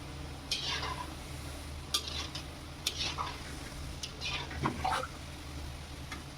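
Karanji pastries fry in oil at medium heat, a soft continuous sizzle with several sharp clinks and scrapes as they are gently stirred in the pan, quiet overall with no talking.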